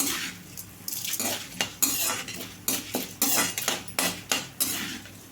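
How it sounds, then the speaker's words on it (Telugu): Coriander seeds and cumin stirred in a pan for a ridge gourd chutney, with repeated metal spoon scrapes and clinks against the pan in a quick, uneven rhythm, close and loud with a faint sizzle underneath and no voices. "రెండు స్పూన్లు ధనియాలు ధనియాలు కూడా ఇట్లా వేసేసుకోవాలి హాఫ్ స్పూన్ జీలకర్ర కలుపుకోవాలండి"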